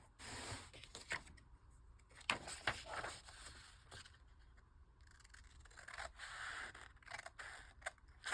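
Scissors snipping and scraping along the ragged edge of torn paper for a junk journal page, a run of close, quiet cuts and rustles with short pauses between them.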